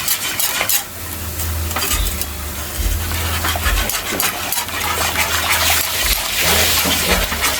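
A spoon stirs lechon paksiw in a cooking pot, with continuous scraping and clinking against the metal and light sizzling underneath, close and fairly loud.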